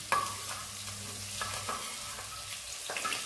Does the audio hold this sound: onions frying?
yes